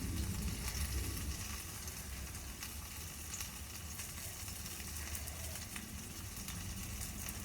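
Thin pounded turkey breast fries in a non-stick pan with a faint, steady sizzle and soft crackle, quiet and without speech.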